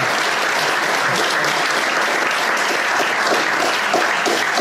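An audience at a book presentation applauds in a sustained, dense burst of many hands clapping at once, loud and close, holding steady for several seconds with no voices over it.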